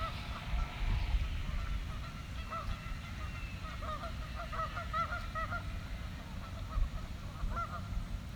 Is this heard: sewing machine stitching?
no